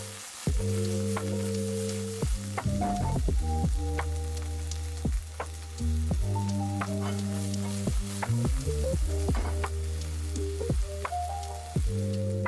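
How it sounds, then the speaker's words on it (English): Seasoned sauce for an oxtail dish sizzles steadily in a pan while a utensil stirs it, with repeated scraping and clacking strokes over the continuous frying noise, close and fairly loud, no talking. "Once I have seasoned everything, it is time to stir it all up."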